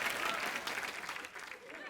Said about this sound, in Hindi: कुछ भी नहीं कहना फिर भी ताली और हंसी